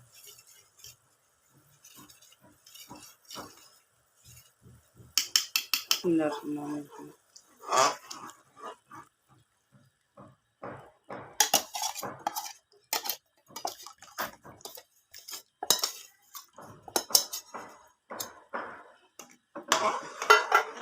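Milk-soaked semolina being added slowly into hot syrup for halwa, with scattered clinks of a utensil against a pot, soft scraping and sizzling patter, while a person talks intermittently throughout.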